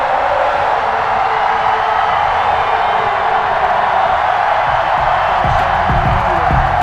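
A packed NFL stadium crowd in Kansas City roars steadily before a Chiefs versus Seattle Seahawks game, forming a loud, continuous wall of cheering with a few sharper thumps near the end.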